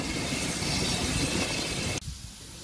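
Steady broadband rumble of steam locomotive 2857 arriving at a station, heard from a distance, continuous and fairly loud until it cuts off abruptly near the end.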